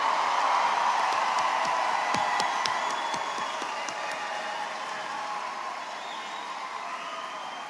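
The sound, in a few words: applause for graduates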